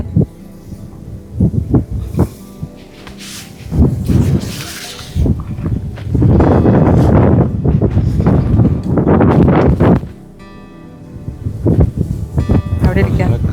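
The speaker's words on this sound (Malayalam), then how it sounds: "നല്ല കാറ്റ്" Wind gusts at Chembra Peak in Wayanad buffet the microphone in rough, uneven bursts that swell and fade, with voices talking in between.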